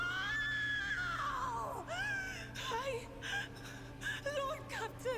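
A high, drawn-out wailing scream from a character in the video game Warhammer 40,000: Rogue Trader, sliding downward in pitch before breaking into shorter whimpering, sobbing cries over a steady background hum.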